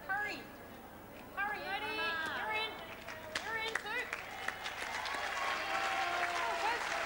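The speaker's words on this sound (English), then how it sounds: "a bit of a cheer for Roma Dunn because I think the crowd knows she's been struggling" Crowd at a New Zealand versus Australia triples bowls match applauding and cheering under a commentator's voice, with a scattering of claps and murmuring spectators beneath the ongoing talk.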